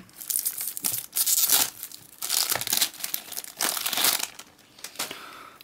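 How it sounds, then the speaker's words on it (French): Plastic packaging crinkles and tears off a Pokémon EX trainer kit box in loud, close bursts of crumpling separated by short pauses. "Allez, donc je vais le déballer."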